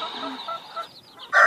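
Poultry call from a backyard flock of chickens and muscovy ducks just after feeding, with thin drawn-out cries giving way to a louder, harsher burst at the end.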